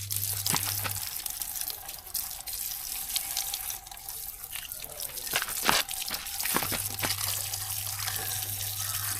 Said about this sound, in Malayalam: നമുക്കൊന്ന് വെള്ളം വെച്ചിട്ടൊന്ന് വാഷ് ചെയ്യാം